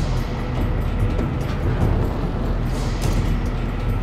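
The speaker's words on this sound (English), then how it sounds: "Scud Storm launched." A Scud Storm launch in the strategy game Generals Zero Hour produces a dense, steady roaring rumble with a broad hiss on top, loud and unbroken for about four seconds.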